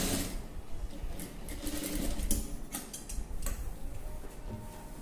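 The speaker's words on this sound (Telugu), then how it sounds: "ఇప్పుడు డబుల్ స్టిచ్చింగ్ వేసినప్పుడు చక్కగా వస్తుంది." A sewing machine runs steadily, double-stitching a neckline design on a dress, with a continuous close mechanical whirr and fine ticking of the needle throughout.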